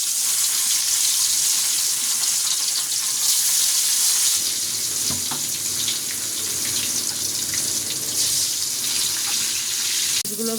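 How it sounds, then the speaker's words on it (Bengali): Fish tails fry in hot oil, giving a steady, loud sizzle with dense crackling hiss that runs through the whole stretch, with a brief clatter near the middle and no voices. "লেজগুলো ভালো করে ভাজা হয়ে গিয়েছে"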